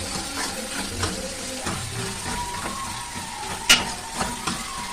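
Tomatoes with salt sautéing in a pan for garlic kuzhambu, a steady close sizzle broken by scraping stirs and one sharp clink of the spoon.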